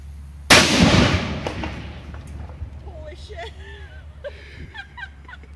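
A Peaceful Valley Arms naval cannon fires outdoors with one loud, sharp boom whose rumble fades over about a second, followed by people laughing and talking nearby.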